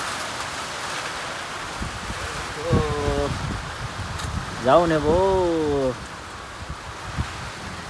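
Strong stormy wind with rain rustling steadily throughout, close and loud, while people speak briefly over it.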